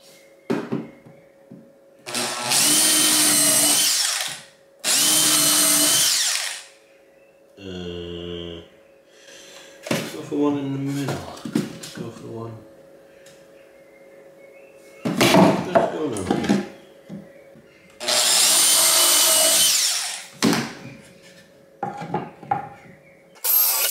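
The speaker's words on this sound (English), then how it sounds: "Why am I using my sideways drill?" Several loud bursts of a right-angle drill whirring and driving screws into wooden floorboards, with short pauses, clicks and handling noises between runs.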